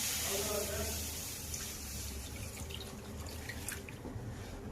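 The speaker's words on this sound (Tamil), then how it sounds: "ஒரு பாத்திரத்தில் ஒரு டம்ளர் பால் சேர்த்துக்கலாம்" A tumbler of milk is poured into a cooking vessel, giving a steady close liquid stream that thins out into faint dripping over a soft kitchen hum.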